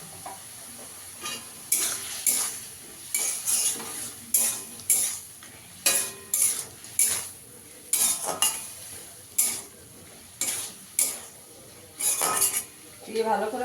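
Ground coriander, cumin and Kashmiri chili powder being stir-fried in a pan for prawn curry, with repeated clinking scrapes of a metal spatula against the pan in uneven bursts over a faint sizzle.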